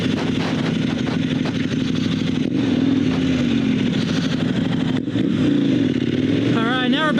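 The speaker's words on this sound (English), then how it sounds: "I'm on the 1190 with a rally tire on it" A KTM 1190 Adventure motorcycle fitted with a rally tire cruises along a fast four-lane highway, its engine droning steadily under heavy wind roar, with a brief dip and a rising rev near the end.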